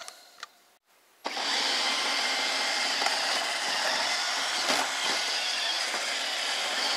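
An iRobot Roomba robot vacuum starts up after a brief click and quiet pause, then runs with a steady, moderately loud whirring hum and faint bumps as it moves across the floor.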